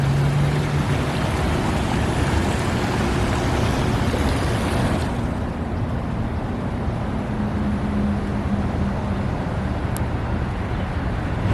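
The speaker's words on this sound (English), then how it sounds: "Corporate Park water feature." A corporate park water feature gives off a steady rushing wash of splashing water, continuous and fairly loud, with a faint background hum.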